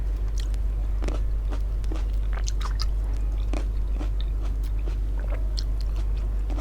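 Crisp bites and steady chewing of crunchy grapes, close and fairly quiet, with repeated crunching pops over a low hum and no talking.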